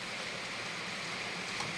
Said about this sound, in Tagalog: Lakas ng ulan nagbabasa.